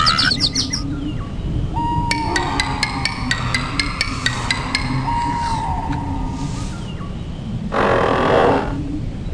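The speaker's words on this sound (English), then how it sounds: "What a sweet little bird!" Small bird chirping in a forest, rapid bright trills and repeated tweets in several bursts, close and clear over a steady low rumble of background noise, with no talking.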